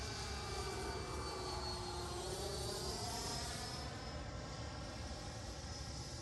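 Freewing Avanti S V2 80mm EDF sport jet RC model flying overhead, its ducted fan giving a faint, steady whine and rushing drone that shifts slightly in pitch as it passes at a distance, no talk.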